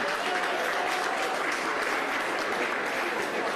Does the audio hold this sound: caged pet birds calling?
no